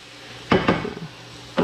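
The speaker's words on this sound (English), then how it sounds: "knock off the spoon a little bit there" A spoon is knocked against a pan to shake off ground meat for a meat pie filling: two quick close clacks, then a third knock a second later, over a faint background hum.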